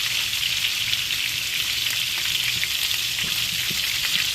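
Steak sizzling and frying in a hot pan as its fat renders, a steady dense hiss with faint pops throughout, close and fairly loud, no voices.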